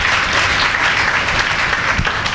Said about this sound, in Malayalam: നമുക്ക് നല്ലൊരു കയ്യടി കൊടുക്കാം